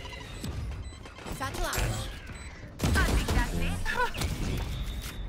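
Gunfire in a tactical shooter video game, several sharp shots and bursts amid game sound effects, with players talking over them.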